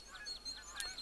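Geese honk overhead in the hunting game theHunter: Call of the Wild, a few faint, repeated nasal calls drifting over a quiet outdoor ambience.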